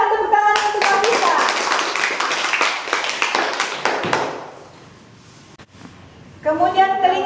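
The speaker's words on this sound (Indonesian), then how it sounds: "Silakan tepuk tangan untuk Nafisa." Students in a classroom clap together for about four seconds, a dense burst of close applause that fades out. It is followed by a brief pause and then speaking.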